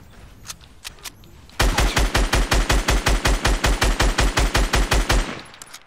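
Rapid automatic gunfire rattles out in a steady stream of about twenty close, loud shots during a video game shootout, preceded by a few scattered single shots.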